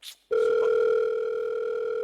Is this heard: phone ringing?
yes